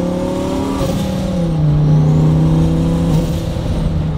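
A twin-turbo Lamborghini engine revs hard and close, its tone climbing to a loud sustained pitch before easing back, with a deep exhaust rumble throughout and no voices.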